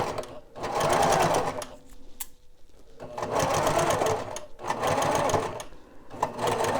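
Sewing machine stitching fabric, running in three close bursts of steady mechanical whirring with brief pauses between, while a person speaks quietly over part of it.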